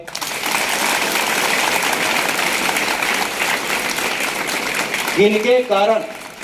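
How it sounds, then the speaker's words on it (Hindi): At a Swami Vivekananda Jayanti school function, the audience breaks into sustained applause, a dense, even roar of clapping that holds steady, with a voice starting to speak near the end. "ताली बजाओ भाई"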